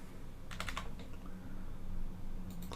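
Computer keyboard shortcut keys pressed in a few quick clusters of close, faint clicks separated by a quiet pause, with no voice over them.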